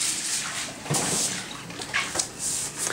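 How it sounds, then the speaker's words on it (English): A broom sweeping across standing water, giving a steady wet hiss with repeated soft swishes and splashes, close and moderately loud with no talk. "sweeping the water?"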